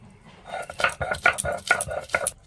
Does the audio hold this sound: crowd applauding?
no